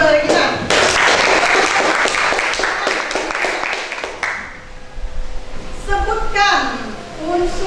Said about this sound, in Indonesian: Tepuk tangan dulu dari kita.